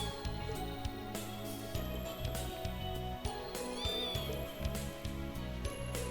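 A cat meows a few times in Trails into Reverie, under busy game music and ambient sound.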